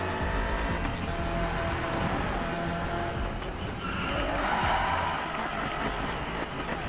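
A muscle car in a driving game roars continuously with engine noise and tire skidding, loud and dense throughout, no talking.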